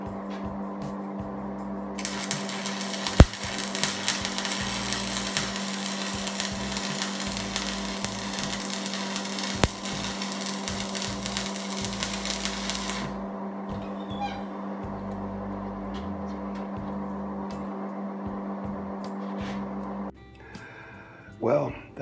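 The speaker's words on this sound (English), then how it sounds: "I'm gonna weld it on, stick weld it on" Stick welding a blade onto a push hog, working old rusty 1/16 metal: a steady loud arc crackle and hum runs for most of the stretch, then stops and gives way to quieter shop noise.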